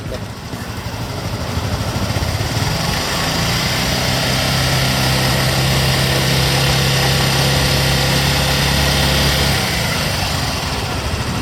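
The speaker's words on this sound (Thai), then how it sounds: "เดี๋ยวลองฟังเสียงตอนเร่งเครื่อง" A 2019 Honda Forza 300 motor scooter engine, with about 10,000 km on it, runs close by and revs up into a sustained higher drone, then eases back near the end.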